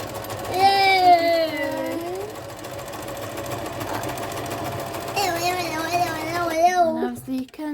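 A sewing machine stitches a zipped fabric pouch, reversing to secure the seam then running straight down, its steady mechanical whir sitting close under a person's ongoing talk throughout.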